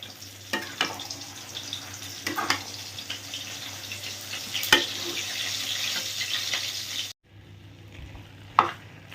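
Carrot halwa being stirred with kheer in a wok, soft scraping and sizzling strokes with a few sharper scrapes, close and steady, ending after a brief cut with a lone stir.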